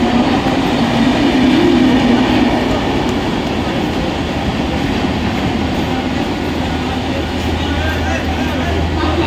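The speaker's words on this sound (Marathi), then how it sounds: "प्लॅटफॉर्म क्रमांक 1 वर आलेली लोकल 7:08 बदलापूरला जाणारी हिंदी लोकल आहे" Mumbai local train at a station platform, a loud continuous rumble and rattle of the cars rolling close by, with a platform announcement voice under the noise.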